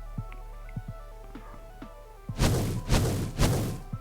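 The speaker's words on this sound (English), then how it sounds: "Oh, now there's mortars going this direction." Mortar shells land in a Minecraft mob battle, three loud broadband booming impacts in quick succession near the end, after a stretch of soft ambient game tones and small clicks.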